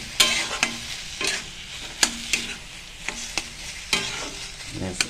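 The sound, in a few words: stirring stuffing with chopped coriander in pan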